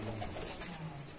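Pigeons in a loft, including old golden show birds, coo softly with low rolling calls close by over a faint background hiss.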